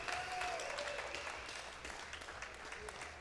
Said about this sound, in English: a big round of applause for both fighters